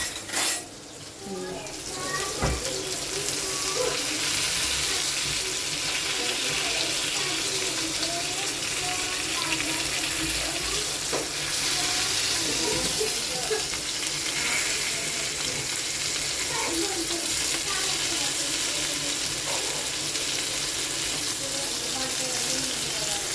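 Fish frying in a pan at home, a dense, loud, continuous sizzle throughout with occasional clinks of utensils against the pan.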